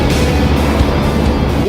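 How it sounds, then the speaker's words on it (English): A big UAZ pickup-style vehicle's engine runs with a loud, steady, dense rumble and no pauses, heard close and alone. "The engine noise from this machine is fantastic."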